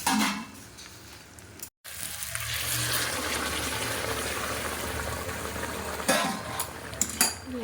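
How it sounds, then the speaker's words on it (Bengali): Water poured into a cooking pot in a home kitchen, heard as a steady, fairly loud rushing wash that runs for several seconds after a brief silent gap near the start, with no voices. "দিলাম এখানে একটু জল"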